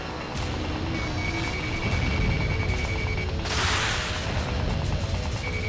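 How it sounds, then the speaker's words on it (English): Explosions in the Ace Combat Assault Horizon combat flight game, a dense rumbling mix of blasts and engine roar with a bright crashing burst near the middle, loud and continuous throughout. "Whoa, explosions."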